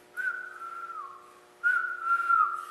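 Hollow whistle given as a signal, imitating an owl's hoot: two long, steady, breathy tones separated by a short pause, close and clear with no other sounds.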